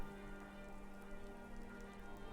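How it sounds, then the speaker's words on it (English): Steady rain falling in the video game Skyrim, a quiet, even patter with a faint low hum beneath, continuous for about two seconds. "It's because it's raining."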